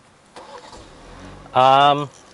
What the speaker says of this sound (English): So I'm going to start the car again.